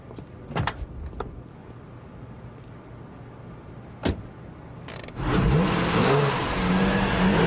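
A car door thuds and a window motor whirs, then the engine starts and revs as the car pulls away to be parked, loud and close in the final seconds.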